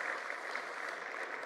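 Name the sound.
audience clapping for the children who helped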